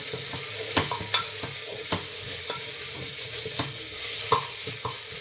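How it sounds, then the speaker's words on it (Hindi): Onions frying in a pan for a chana dal, a steady broadband sizzle with scattered clinks and scrapes of a spoon stirring against the pan, no voices. "फिर डालेंगे प्याज। अब इनको अच्छी तरह भूनेंगे।"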